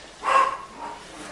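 A single short dog bark indoors at home, fairly close and moderately loud, followed by a faint trailing whine.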